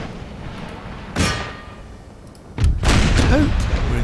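Artillery cannon shots boom in an Empire: Total War battle, one sharp blast followed by two more in quick succession, heard over a low background of battlefield noise.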